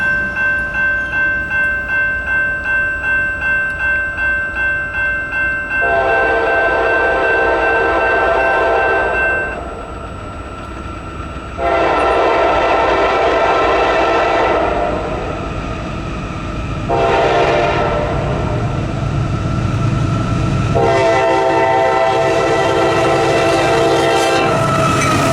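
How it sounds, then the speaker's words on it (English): CSX X566 freight train led by freshly rebuilt locomotive CSX 7393 passing on the Garrett Subdivision, its horn blaring in several long blasts over a loud, steady rumble and clatter of wheels, close and continuous. "the next train being CSX X566 with CSX 7393, a very fresh and shiny rebuild, in the lead"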